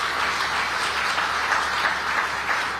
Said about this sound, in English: Another round of applause for Governor.